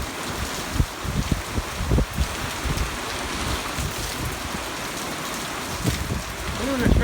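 Steady wind-driven rain falling outdoors during a passing thunderstorm, a dense continuous wash with gusty buffeting against the microphone and scattered heavier drops.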